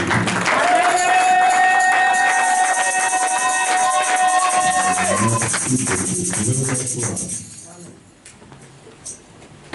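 A church congregation cheers and applauds the Lord: loud sustained tones and voices ring out first, then scattered clapping and cheering rise before fading toward quiet.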